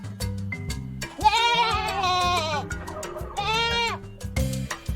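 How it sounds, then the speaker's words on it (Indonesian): A goat bleating in two drawn-out, quavering calls, close and clear, between short clicking and thumping sounds. "Kambing sanggup memakan apapun dan bisa mencari makan sendiri"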